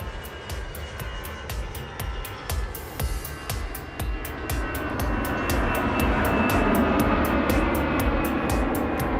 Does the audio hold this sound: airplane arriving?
yes